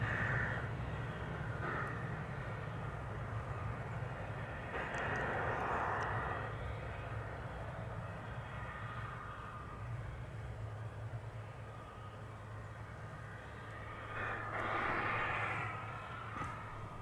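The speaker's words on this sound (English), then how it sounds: "Another Delta flight's coming in." A Delta Airbus arriving from Los Angeles comes in to land at Dallas Fort Worth airport, its distant engine roar steady and swelling in brief waves, with no one talking.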